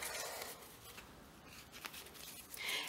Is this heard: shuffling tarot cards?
yes